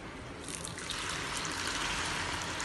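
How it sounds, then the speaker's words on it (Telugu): A steady stream of water pours continuously into a cooking pot for basmati rice, close and even, with no voices. "ఇంకా వాటర్ పోసేసుకుంటున్నానండి"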